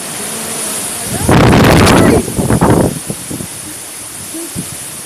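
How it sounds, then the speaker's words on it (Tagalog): A sudden loud roaring typhoon gust batters the microphone for about two seconds, then eases into a steady background rush with scattered rattles. "Super lakas ng hangin."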